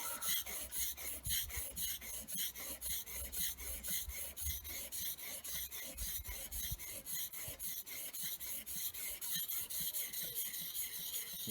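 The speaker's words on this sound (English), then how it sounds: "You try and use the whole surface of the oil stone to prevent it from wearing in one spot" A blade being sharpened on an oil stone during joinery work, giving a steady, close rasping scrape that repeats in even back-and-forth strokes throughout, with no talking.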